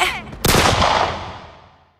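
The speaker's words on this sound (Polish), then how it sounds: "Echo wystrzału poniosło się w promieniu kilku metrów." A single loud gunshot sound effect in a dramatic audio story, a sharp close blast after a brief voice, followed by a long ringing echo that fades out over about two seconds.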